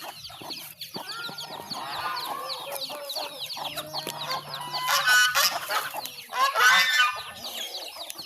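Chickens cluck steadily in a garden, with overlapping calls from several birds. The sound is close and continuous and rises in a couple of louder bursts near the end, with no speech.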